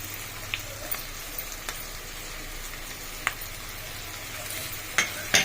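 Chopped okra fries in a pan with onion, tomato, green chilli and ginger-garlic paste, giving a constant close sizzle broken by a few sharp utensil taps and scrapes, with no talking.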